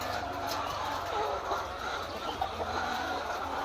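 White hens cluck faintly and intermittently on a poultry farm, half buried in a steady wash of barn noise and low hum.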